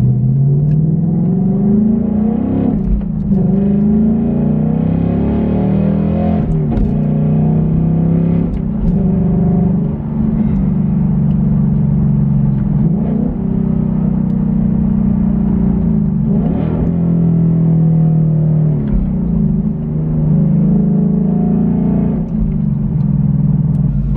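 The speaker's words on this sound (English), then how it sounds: "All I hear is exhaust. It's like OEM." Exhaust note from a 2024+ Ford Mustang being driven, a loud steady low drone with small rises and dips in engine pitch, heard alone inside the car.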